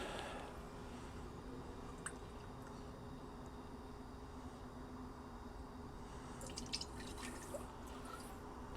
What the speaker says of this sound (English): we'll start by measuring out 1 cup of evaporated milk.